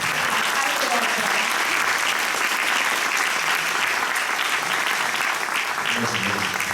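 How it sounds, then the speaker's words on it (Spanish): Sustained audience applause in a room welcoming a doctor to the stage at an impact-dialogue event, steady and dense throughout, with a few voices audible underneath. "¿Qué les parece si ahora sí redoblamos el aplauso para recibir a este doctor?"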